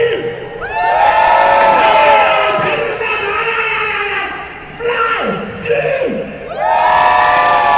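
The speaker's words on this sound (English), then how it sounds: "Every single person should get a cheer and shout." A big outdoor crowd at a Red Bull Flugtag at Cape Town's V&A Waterfront cheers, whoops and screams in loud, rising bursts, with a short dip in the middle before the roar surges back.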